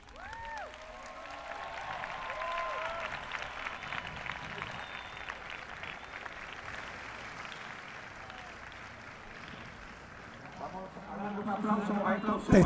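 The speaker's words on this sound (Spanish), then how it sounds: "por favor, todos el aplauso para ellos" Crowd applause and cheering from a large youth gathering at a papal vigil in Panama, rising after testimonies. The sound is broad and sustained, swelling louder toward the end, with voices mixed into the noise.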